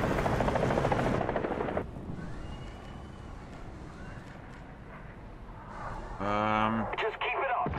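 Helicopter in the War Thunder video game, a steady rotor and engine drone mixed into loud battle noise, with someone talking over it.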